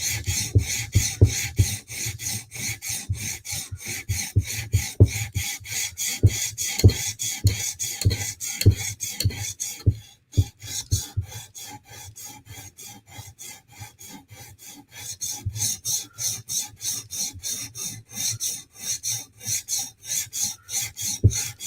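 A hand file rasps rhythmically along the swedge of a Tonto knife blade, steady back-and-forth strokes at close range with a brief pause midway before the filing resumes.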